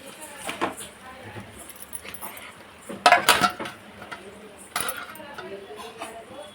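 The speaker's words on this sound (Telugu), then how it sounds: "దీంట్లోకి మనం ముందుగానే బాయిల్ చేసుకున్న పాస్తా ఉంది కదా, వేసేసుకుందాం" Cooked pasta tipped into a pan during home pasta cooking, giving a clattering burst of utensil and pan clinks around the middle, with softer knocks before and after and faint background voice.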